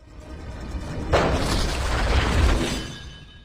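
A gunshot in a film scene lands as a sudden heavy boom a little after the start, then a broad rumbling crash that swells and fades over the next two seconds, loud and close.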